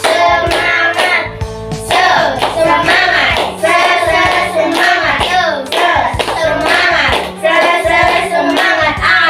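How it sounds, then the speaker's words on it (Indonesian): A class of primary-school children in a social studies lesson claps hands together in a lively rhythmic pattern, with loud, dense bursts of clapping that pause briefly between phrases. "Tepuk tangan."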